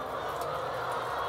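Chickens at laying nests inside a barn, a dense continuous murmur of many hens clucking together, steady and fairly loud.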